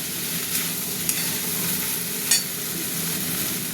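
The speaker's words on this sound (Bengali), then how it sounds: "এটা ডিম আর মাংস ভাজাটা দিয়ে দিলাম। এবার একটু নাড়তে হবে" Fried rice with egg and fried meat is stirred in a hot pan, a steady close sizzle broken by a few sharp scrapes of the spatula against the metal.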